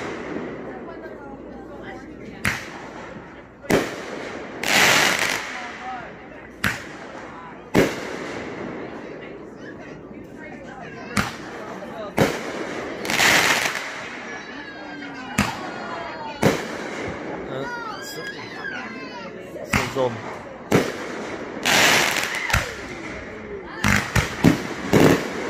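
Fireworks burst one after another over a campground on the Fourth of July, with sharp loud bangs at irregular intervals, some echoing and crackling, while people talk and react excitedly between the explosions.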